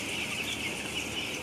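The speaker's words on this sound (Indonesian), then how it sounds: "saat ini saya sedang berada di antara ribuan ayam sahabat" Thousands of broiler chickens packed inside a poultry farm house make a steady, dense wash of chirping and clucking that fills the space continuously, with no talk over it.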